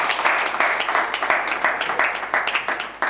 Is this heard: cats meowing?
no